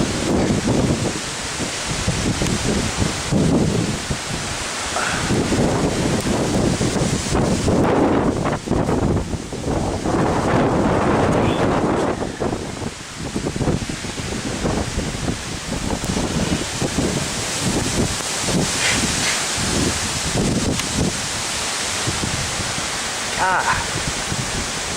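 Severe derecho thunderstorm winds of about 70 mph roar and gust continuously at loud, steady strength with heavy buffeting against the microphone, and a person speaks intermittently over the storm.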